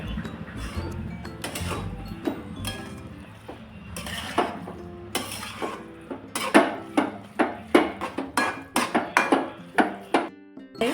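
Vegetables for a superfood veggie paratha being roasted in a pan, with repeated clattering stirs of a spoon against the metal and sizzling underneath, the scraping strokes growing sharper and quicker toward the end.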